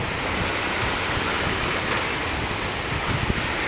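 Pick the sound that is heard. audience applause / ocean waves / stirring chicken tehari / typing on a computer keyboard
ocean waves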